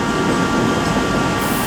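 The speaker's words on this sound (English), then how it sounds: "the 1430 cross-country service to Newcastle is also getting ready to depart" A CrossCountry passenger train stands at Birmingham New Street station on the West Coast Main Line, its loud, steady rumble filling the platform with no voices.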